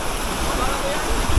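A river current rushes in a dense, loud, steady wash of water noise at close range over a very short stretch, with voices mixed into it.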